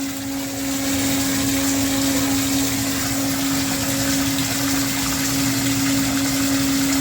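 A Mastercraft 1/2 hp submersible water pump running, a steady humming whir with a constant tonal buzz and rushing water, continuous and unchanging.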